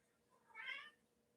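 Bandit, a cat being shooed off a table, gives a single short meow that swells and fades, fairly faint and clear against a quiet room with no voices.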